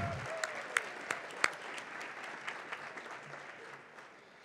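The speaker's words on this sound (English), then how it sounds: "Yeah, big applause." Audience at a girls and women in sports luncheon applauding, a soft scattered patter of clapping with a few sharper claps, fading out after a few seconds.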